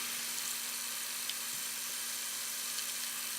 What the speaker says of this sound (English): here I'm drilling out all the way through the center of that bolt